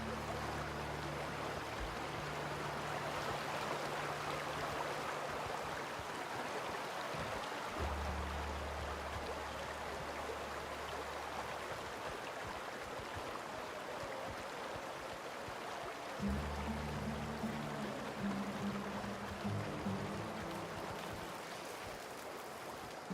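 Waterfall in The Outer Worlds video game, a steady broadband rush of falling water that runs continuously at moderate level, with low game ambience tones shifting underneath and no voices.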